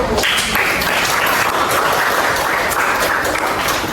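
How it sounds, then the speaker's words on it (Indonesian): Classroom applause for a student group after a chemistry presentation, a dense, even burst of many hands clapping that fills the whole four seconds at high volume. "kita beri aplaus dulu untuk kelompok 1"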